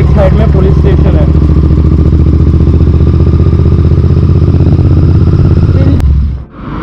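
A 2023 Royal Enfield Interceptor 650 riding on a ring road, its engine a loud continuous drone mixed with heavy wind rush, with a voice partly audible over it, until the sound cuts off abruptly near the end.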